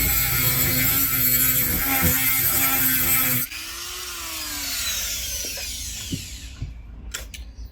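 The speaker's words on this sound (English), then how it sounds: "We're going to cut a line into them so we can use a flathead just to unscrew them." A power tool cuts a slot into tamper-proof carburetor screws on a 2022 Brozz 250 dirt bike, a loud steady drilling whine for about three seconds that cuts off abruptly, followed by quieter tool handling and a few clicks.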